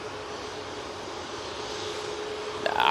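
A Ryanair Boeing 737 MAX 8 holds on the runway at Manchester Airport, its engines a steady, fairly distant whine and rumble that swells slightly at the end.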